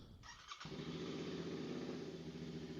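A Royal Enfield motorcycle engine cranks briefly, then catches and settles into a steady, close, loud idle thrum.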